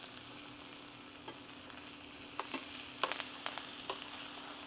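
Steak searing in a hot skillet with aromatics gives a steady close sizzle and hiss, with a few sharper crackles and pops in the middle, and no voices.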